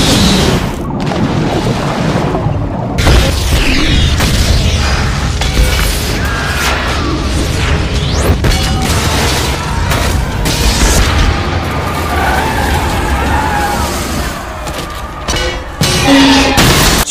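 A violent explosion rips through an underground tunnel in a monster film: a loud, sustained roaring blast with crashing, rumbling debris and grinding mechanical noise that keeps surging for many seconds.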